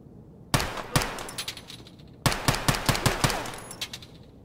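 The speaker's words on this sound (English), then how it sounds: "I actually shot him through the fence" Automatic gunfire in the video game Escape From Tarkov, two loud rapid bursts of sharp shots separated by a brief pause, close and without speech.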